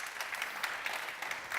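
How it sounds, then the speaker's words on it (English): Applause for conference panelists at a tech inclusion event, a steady, soft patter of many hands, fairly distant and continuous throughout. "Let's give our panelists a round of applause,"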